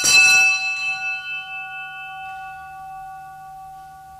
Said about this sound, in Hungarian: a résztvevők harangütéssel emlékeztek az elhunyt rendtársakra